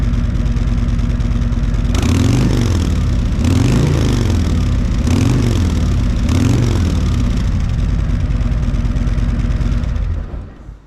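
A motorcycle engine is cranked and revved through an old exhaust, loud and close: a steady rumbling idle swells into four rising-and-falling revs before cutting off at the end.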